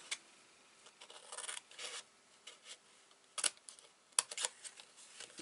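Paper pieces for a Graphic 45 scrapbook album are trimmed with quiet, scattered rasping cuts and rubs, a few brief sharper snips in between, faint and close, with no talking.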